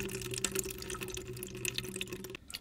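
Water drains and drips from a pipe at a washing machine valve during a valve replacement in a home, a steady trickling and splashing that runs continuously before cutting off abruptly near the end.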